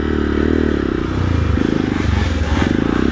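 A Honda XR150L climbs a steep hill in second gear, its engine laboring with a steady, loud, close thrum and rattly clatter throughout.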